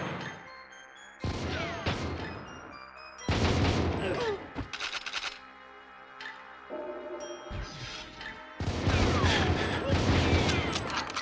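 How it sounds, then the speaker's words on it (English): Gunfire in a GoldenEye 007 shootout on the N64: loud bursts of rapid automatic fire in several stretches, broken by short pauses and single shots with some mechanical clatter. "Oh, watch out, it's a big shootout now."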